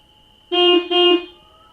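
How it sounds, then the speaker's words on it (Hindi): Two short, loud car horn honks sound back to back, close by, against a quiet background. "अपनी गाड़ी का हॉर्न भी बजाया"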